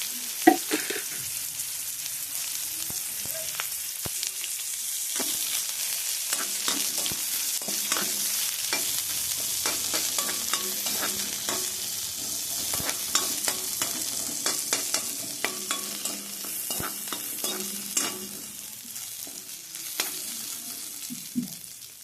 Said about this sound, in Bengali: ওই তেলেতে আমি আলুর তরকারিটা করে নেব।